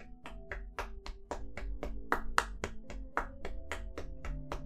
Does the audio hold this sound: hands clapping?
yes